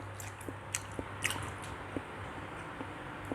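Soft, wet squishing bites and chews on a chili pepper stuffed with Pontianak fish meatball, a handful of small, close mouth sounds spaced irregularly over a low steady background hum, with no talking.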